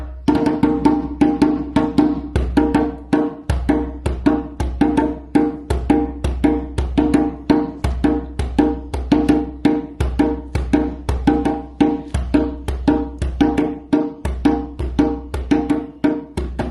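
African polyrhythmic drumming, dense interlocking hand-drum strikes in a continuous driving pattern with a steady low pulse beneath, loud and sustained throughout without talking.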